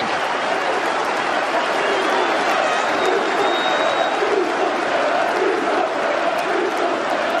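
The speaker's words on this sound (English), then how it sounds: "Applause from the Stratton Bank." Football crowd applause at Swindon's County Ground, from the Stratton Bank terrace after an equaliser against Norwich in 1994, a dense, continuous roar of clapping and cheering from a large stadium crowd, with a commentator's voice over it.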